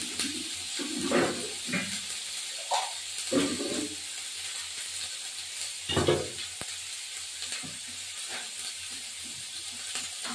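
A sizzling pan takes mustard paste, crushed tomato and a splash of water, giving a moderate, steady sizzle with several bursts of spattering and stirring scrapes close by.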